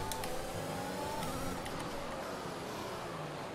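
Formula 1 race car engines from a racing video game give a steady, dense engine drone throughout, with a few brief higher clicks or shifts early on and no talking.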